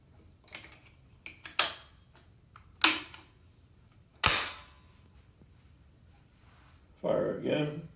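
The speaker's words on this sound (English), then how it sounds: "Fire again." Marlin 795 rifle fired during laser zeroing: several sharp, loud shots spaced a second or more apart, each with a quick decay, followed by a burst of handling noise, with no talk.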